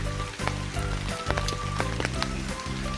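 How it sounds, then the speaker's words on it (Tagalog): Rain falls steadily on a surface, a dense patter of drops with scattered sharper taps close by, continuous and moderately loud with no voices. "kasi walang payong, basa tayo sa ulan."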